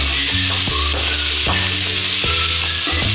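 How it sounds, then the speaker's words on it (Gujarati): Okra and tomato pieces coated with spices are stirred in a hot pan, giving a loud, close, continuous sizzle broken by repeated scraping strokes of the spoon. "હવે આપણે સરસ મિક્સ કરી લઈએ ટમેટા, ભીંડા અને બધો મસાલો"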